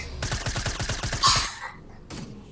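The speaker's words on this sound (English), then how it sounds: "That sounds like a freaking laser." Rapid laser-like gunfire in Fortnite comes as a quick burst of about ten evenly spaced shots, loud and close, followed by a brief pause and one final shot.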